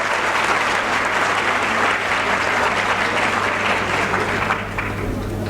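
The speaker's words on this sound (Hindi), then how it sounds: "एक बार जोरदार तालियां बजा के आदेशित करिएगा।" A crowd applauds loudly and continuously, dense clapping filling the whole stretch before tapering slightly near the end.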